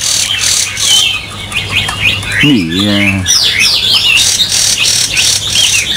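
A Chinese hwamei songbird sings a run of quick, varied whistles and chirps nearby, with a brief human voice breaking in partway through.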